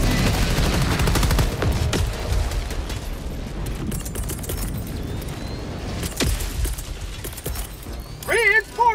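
A deployed sentry turret in Helldivers 2 rattles off rapid automatic bursts, loud and close, with irregular volleys and booming impacts, then a short stretch of warbling electronic tones near the end.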